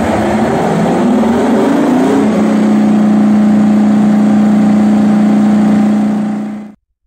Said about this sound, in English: Detroit Diesel knew the 20V149 would be loud.